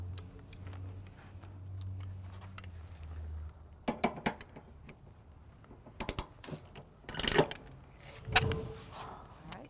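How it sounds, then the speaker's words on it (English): Trailer hitch bolts being torqued with a 13mm socket on a 2015 Ford Focus, sparse metallic clicks and clanks of the ratchet and socket, fairly close, between quiet stretches with faint hum. "we're going to go ahead and torque our two most forward bolts"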